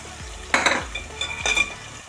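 A spoon stirs chicken pulao coated in ginger, green chili and coconut paste around a pan in two close scraping strokes over a low sizzle, with light metallic clinks.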